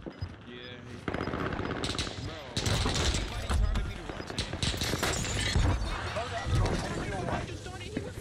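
Gunfire in the video game Call of Duty Warzone, rapid automatic bursts and cracking shots in dense, clattering runs under a busy game mix, with people talking over it.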